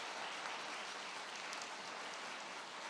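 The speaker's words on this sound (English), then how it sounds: "One more round of applause, please, for our panel" Audience applause for a panel on stage at a business journal event, a steady dense wash of many hands clapping, heard at a distance and fairly faint, with no talking over it.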